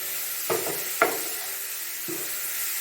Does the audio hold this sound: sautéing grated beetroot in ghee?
yes